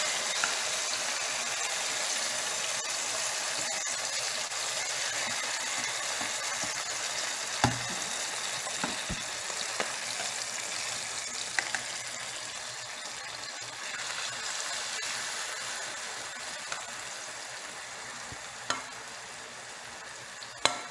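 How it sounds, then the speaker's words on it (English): Steady, continuous sizzling of chicken pieces pan-searing in a hot frying pan, with a few occasional clicks and scrapes over the crackling hiss. "A nice sizzle."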